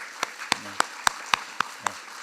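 Hands clap during a Korean church Sunday worship service to welcome a new pastor, sounding as sharp, evenly spaced claps in a steady beat, close and fairly loud over a quiet room.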